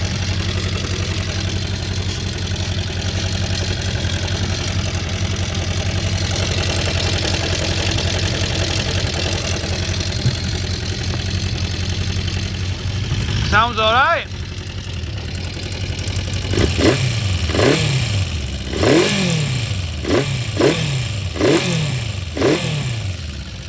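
A restored classic Honda CB400 Four motorcycle idles steadily on all four cylinders, then is blipped through several sharp revs in quick succession close by, with a brief spoken comment.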